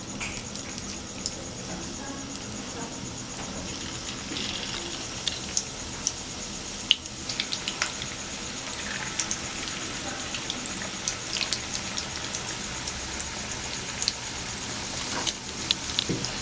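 Spinach pakoras fry in hot oil, giving a steady soft sizzle with scattered pops and crackles across the whole stretch.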